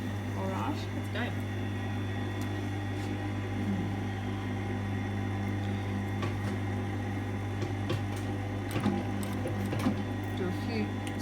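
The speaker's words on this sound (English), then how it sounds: "Do a few stitches forward and then a few stitches back." Sewing machine stitching a welt onto a jacket front for a double jetted pocket, running steadily in short forward and reverse bursts with a constant motor hum under quiet background sounds.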